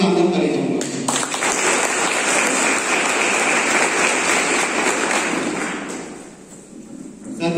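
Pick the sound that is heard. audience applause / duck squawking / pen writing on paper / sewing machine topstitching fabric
audience applause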